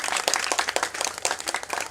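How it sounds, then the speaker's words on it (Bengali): An audience at a Ganesh puja cultural programme in Dum Dum claps loudly together, a dense burst of many hands at close range for about two seconds. "নিজেদের জন্য জোরে একটা হাততালি দিন সবার আগে"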